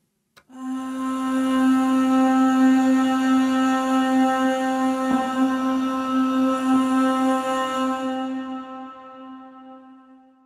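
Reversed and forward vocal sample ensemble layered together into a loud, sustained harmonic choral texture with a sudden onset, holding steady for several seconds before gradually fading.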